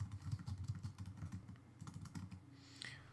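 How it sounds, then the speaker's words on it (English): Someone types on a computer keyboard, a quick run of close, soft key clicks in an uneven rhythm that slows and stops near the end, quiet and alone. "So just like that, I started typing."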